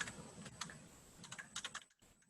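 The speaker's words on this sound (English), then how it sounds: "Just typing." Soft, quick tapping on a computer keyboard comes in irregular bursts of keystrokes, quiet and fairly close, with no talking.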